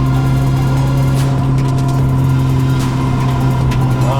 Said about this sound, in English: Oh, this feels so good just re-driving this thing, even though I'm only in second gear and doing like 20 kilometers an hour